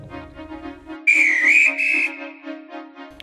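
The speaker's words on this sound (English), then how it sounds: "Oh, that's my guard's whistle." A railway guard's whistle sounds once, a shrill, slightly wavering blast lasting about a second, loud over a quiet steady background hum.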